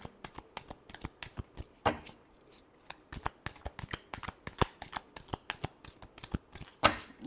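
Tarot cards shuffled by hand, a steady run of quick riffling flutters and soft slaps, close and clear with no talking.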